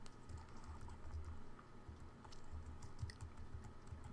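A line of code being typed on a computer keyboard: faint, steady key taps in irregular bursts over a low background hum, with no speech.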